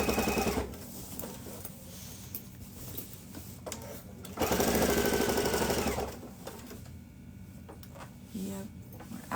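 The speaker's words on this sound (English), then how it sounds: "we are almost out of thread" A sewing machine stitches through a duffle bag in uneven bursts until the bobbin thread runs out, with a louder, sustained run in the middle and quiet talk between the stitching.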